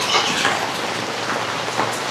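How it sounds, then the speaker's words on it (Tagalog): Heavy typhoon rain from Uwan pours down steadily in Tuguegarao City, a dense, constant hiss of drops close by with no break across the whole stretch. "lumalakas na talaga yung ulan na dala ni Uwan"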